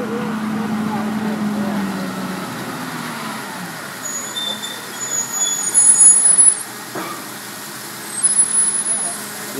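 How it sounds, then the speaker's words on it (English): A boat lift hoisting a boat at the Port of Edmonds, Washington, with a steady machinery rumble that swells louder in the middle and near the end, plus brief hissing releases. "This boat's being lifted up now."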